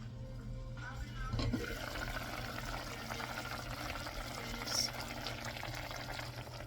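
Home-style adobo simmering in a pot, a steady low bubbling and watery hiss that runs throughout at moderate level, with a brief knock near the start and faint background voices.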